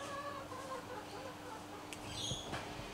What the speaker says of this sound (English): Down here we have the chickens.